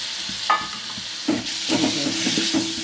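Spice paste fries in a pan for a potato and soybean curry, a close steady sizzle and hiss with a few knocks and scrapes of the spoon.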